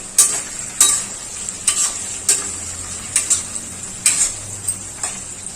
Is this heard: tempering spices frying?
yes